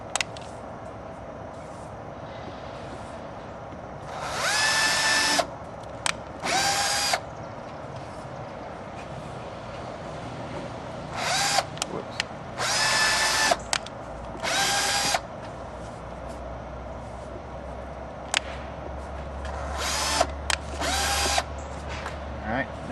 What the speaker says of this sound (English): You can drill holes all the way down and then fill them in, or you can drill individual holes